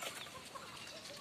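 Shamo gamefowl chickens at a farm sale clucking faintly amid a steady, noisy background, with no clear crowing.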